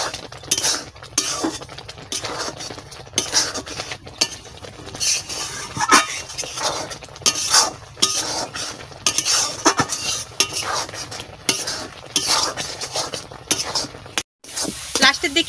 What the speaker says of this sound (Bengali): এবারে নাড়তে থাকবো